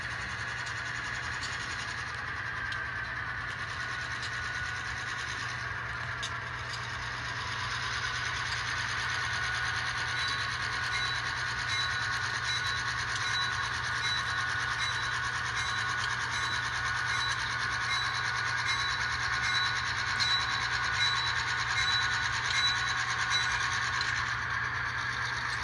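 A model train consist running on a layout track gives a continuous rolling, rasping rumble with a steady mechanical whine that keeps on evenly for the whole stretch and gets slightly louder partway through, with no talking.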